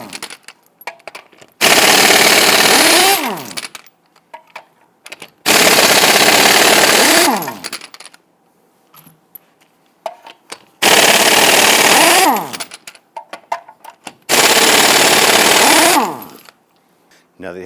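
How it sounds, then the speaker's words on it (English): An impact wrench with a 21mm socket loosens and removes the lug nuts on a 2000-2006 Toyota Tundra front wheel, firing four loud, close bursts of rapid hammering, each about two seconds long, separated by short pauses with faint clicks and handling noise. "let's loosen and remove our lug nuts."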